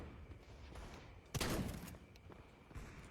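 Gunfire in a Counter-Strike deathmatch, a faint shot followed by one loud burst of fire that fades, with a few softer shots around it.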